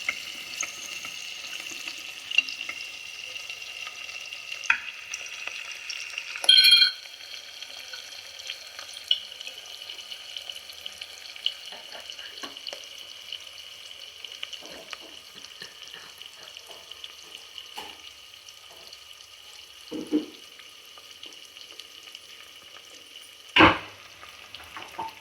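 Onions frying in a spiced tempering for bisi bele bath, a steady fine sizzle running throughout with occasional clicks and knocks of a utensil, no voices.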